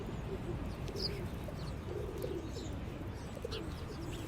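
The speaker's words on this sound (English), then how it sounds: "The birds are calling you." Pigeons coo softly at a distance in repeated low, throaty calls beneath a constant hiss of outdoor background noise.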